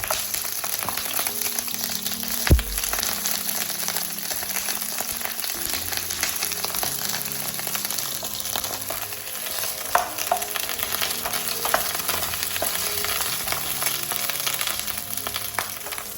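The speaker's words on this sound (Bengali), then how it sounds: "আমি বেগুনটাকে লাস্টে ভাজলাম" Eggplant frying in hot oil in a home kitchen pan for a chicken dish, a steady sizzle with crackling spatters and occasional stirring clanks, no talking.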